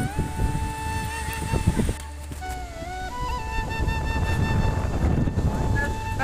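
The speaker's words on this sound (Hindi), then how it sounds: "ठंडा ठंडा हवा चल रहा है मालूम है।" Cold wind blowing across an open high area as dark monsoon clouds gather before rain, a steady broad rush that swells through the clip with someone talking over it early on.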